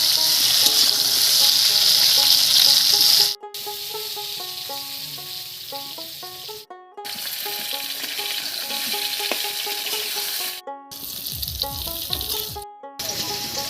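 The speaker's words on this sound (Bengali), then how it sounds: "এই অবস্থায় পটলগুলোকে একটু ভাজা ভাজা করে নেব।" Pointed gourd pieces fry in hot oil with cumin seeds and a bay leaf, giving a steady loud sizzle with occasional stirring, broken by a few brief cuts, while a soft melodic tune plays underneath.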